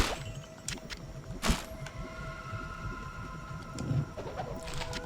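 Birds in the video game Diablo II, with cooing and flapping calls scattered through game ambience, punctuated by brief sharp effects and a louder burst near the start.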